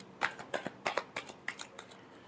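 Tarot cards being shuffled by hand, a quiet series of crisp snapping flicks in an uneven rhythm of about a dozen strokes, close up and alone.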